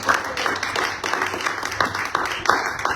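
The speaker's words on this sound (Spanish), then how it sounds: "demos un fuerte aplauso al Señor" A church congregation claps in a burst of applause lasting a few seconds, dense and fairly loud, with some faint voices mixed in.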